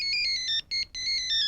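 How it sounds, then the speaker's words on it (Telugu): A phone ringtone sounds in a Telugu comedy film scene: a loud, repeating electronic melody of bright tones with a brief break midway, heard alone without voices. "ఫోన్"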